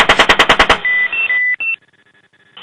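Rapid burst of cannon fire from an Apache attack helicopter's gun during a combat engagement in Iraq, about eight loud evenly spaced shots, followed by sustained electronic tones and beeps from the cockpit systems.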